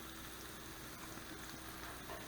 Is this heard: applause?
no